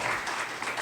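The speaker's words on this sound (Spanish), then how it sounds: "Dele un fuerte aplauso al Señor." A church congregation claps briefly in praise to the Lord, a short, moderately quiet burst of dense applause lasting under a second, with no voices on top.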